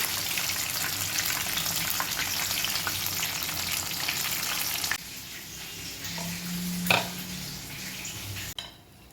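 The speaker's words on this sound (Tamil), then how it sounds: "பாருங்கள், தட்டில் அப்படி வச்ச உடனே வந்து எப்படி சவுண்டு கேட்குதுன்னு அந்த அளவுக்கு சூப்பராக கிறிஸ்பியாக இருக்குது" Crispy fried chicken, KFC-style, sizzles loudly and steadily in hot oil, then the noise drops as the pieces are lifted out onto a plate, with a brief clatter of utensil or plate and a softer crackle after.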